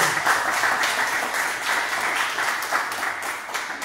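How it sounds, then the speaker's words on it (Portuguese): A church congregation claps strongly to welcome a singer, a dense, even wall of applause that holds steady throughout, with no talking. "Vamos receber a serva de Deus com as palmas bem fortes para Jesus."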